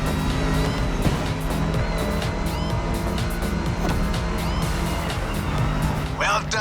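Rally-raid prepped Ford Mustang GT in a racing video game: a steady, loud engine roar with tire squeal throughout, under music and game sounds.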